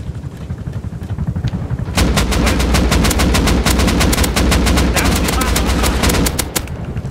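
Loud, rapid automatic gunfire from the survival video game Rust breaks out after a quieter stretch and continues in dense, overlapping bursts for several seconds.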